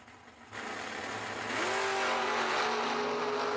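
A Corvette drag race car launching from the start line beside a second car, engine noise jumping up sharply and climbing into a loud steady roar as it pulls away.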